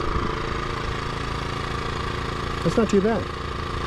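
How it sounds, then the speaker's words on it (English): A Westinghouse iGen2550 dual fuel portable generator runs steadily, heard from its exhaust side about 10 to 20 feet away, a constant mid-pitched engine hum beneath a brief spoken comment. "it's not the quietest, but it's quiet for a generator"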